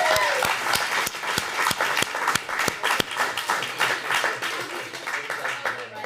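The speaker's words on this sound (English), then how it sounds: "one more round of applause for all of our writers" An audience at a Street Roots holiday zine party applauds its writers with steady clapping, a few sharp nearby claps standing out, and a voice speaking over it.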